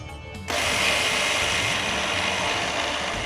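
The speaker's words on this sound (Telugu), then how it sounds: "ఇదే మిక్సర్ జార్లో నీళ్లు వెంపేసి నానబెట్టిన బియ్యాన్ని వేసి రుబ్బుకోవాలి" An electric mixer grinder kicks on abruptly and then runs with a steady, loud whirring roar as it grinds soaked rice and water into idli batter in its jar, with no talking.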